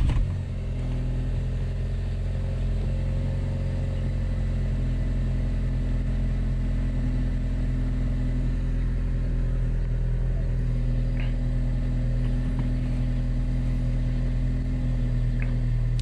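Steady idle of a 2015 Ford Focus ST engine just after being started, a low even rumble close by that holds unchanged throughout, with no talking.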